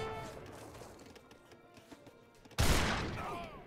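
Musket volleys in the strategy game Age of Empires III: scattered faint shots and clicks during battle, followed by a sudden loud, close burst of gunfire that fades slowly.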